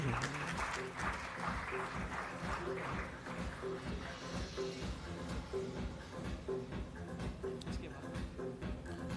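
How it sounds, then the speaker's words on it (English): A symposium audience applauds at an animal feed industry national meeting in India, steady clapping throughout with a faint repeating tone and some murmur underneath. "A round of applause."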